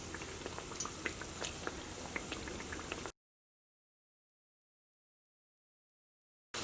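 Parippu vada, lentil fritters, sizzle in hot oil with a dense, quiet crackle for about three seconds before the sound cuts to silence.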